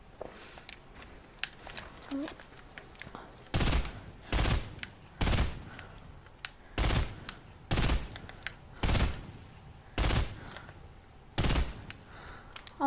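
Fortnite gunfire comes in nine sharp, loud bursts spaced about a second apart, with quieter game sounds between them and occasional voices.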